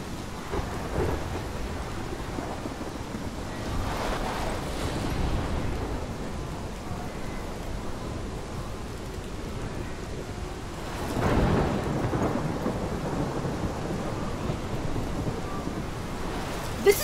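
A thunderstorm in the video game Life Is Strange: steady heavy rain pours throughout while two deep rolling thunder rumbles swell and fade, one near the start and a louder one near the middle, with no speech.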